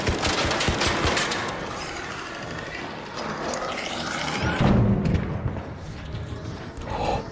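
Rapid, dense automatic gunfire from a purple-rarity video game gun rattles continuously at close range, with thumps and layered shots in a busy game mix.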